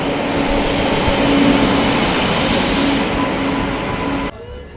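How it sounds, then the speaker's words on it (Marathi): The Bangalore–Nanded Express train rolls into Latur Road railway station with a loud, steady, close rumble that holds throughout, then drops off abruptly near the end. "आपल्यासमोर ही बेंगलोर नांदेड एक्सप्रेस येत आहे"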